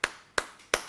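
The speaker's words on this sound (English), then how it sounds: "It's like if you clap," Three sharp hand claps, evenly spaced and close, ringing briefly in a quiet room at a spiritual talk.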